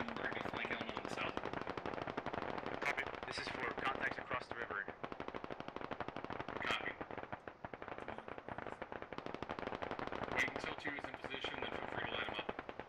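Dense, sustained automatic gunfire from a Squad battle crackles near and far in continuous rattling bursts, with voice chat talking over the shooting throughout.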